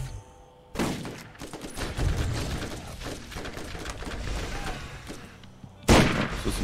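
Gunfire in the video game Borderlands: a burst of rapid shots runs almost continuously for about five seconds with a rumbling low end, then a sharp, loud blast lands near the end.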